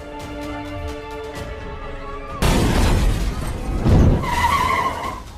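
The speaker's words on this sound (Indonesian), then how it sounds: "mobilnya pun meledak dan membuat dirinya tewas seketika" Car explosion in a film scene: a quiet tonal music passage cuts abruptly into a loud, broad burst of blast and debris noise that swells again a second later, with no speech over it.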